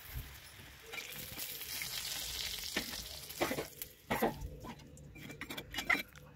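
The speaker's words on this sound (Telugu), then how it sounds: "ఆ ఆయిల్ని పాడేయకుండా వాటిలోనే మనం కట్ చేసుకున్న ఉల్లిగడ్డలు ఇట్లా ఫ్రై చేసుకోవాలి." Chopped onions fry in hot oil for egg curry, giving a steady sizzling hiss with scattered crackles and several louder scraping stirs of a spoon in the pan toward the end. No one talks.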